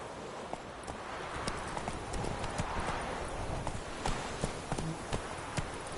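Horse hooves clip-clop in a PS4 video game, a brisk series of sharp knocks in a steady trotting rhythm, fairly faint over a soft background.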